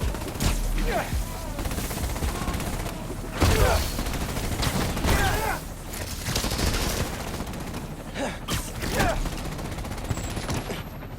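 Rapid automatic gunfire rattles almost without pause through a combat scene in the Marvel's Spider-Man: Miles Morales video game, loud and dense, with sharper bursts standing out and game voices now and then over the shooting.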